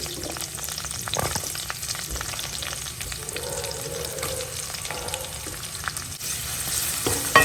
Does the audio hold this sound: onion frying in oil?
yes